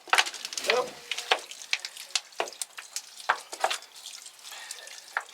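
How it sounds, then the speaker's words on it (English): Water is poured onto a seed tray of salad seedlings, giving a run of close, irregular splashes and patters with short gaps, like gentle watering from a can. "Give it a little water, a little damp down."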